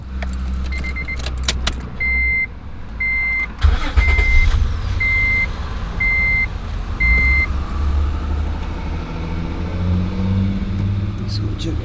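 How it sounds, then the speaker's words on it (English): Acura TL engine starting and settling into a steady low idle after a power steering O-ring replacement, with a repeating electronic chime beeping evenly early on and a brief burst of handling noise near the start. "turning on the car to make sure it's quiet"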